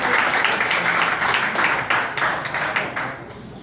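Audience applause greets a guest at a left-wing political talk event, a dense wash of many hands clapping at steady volume that thins slightly toward the end.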